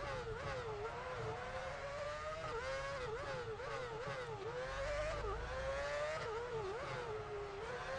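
Formula 1 car engines in the F1 Championship Edition racing game wail continuously during the United States Grand Prix, pitch rising and dropping with repeated upshifts and downshifts, loud and close.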